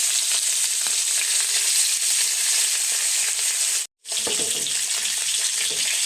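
Catla fish pieces fry in hot oil, giving a loud, continuous sizzle close by that cuts out for a moment midway, then resumes.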